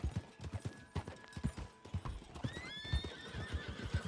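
Horse hooves clip-clop at a steady riding gait in Red Dead Redemption 2, rhythmic thuds close and clear, with a horse whinnying near the end over faint jingling tack.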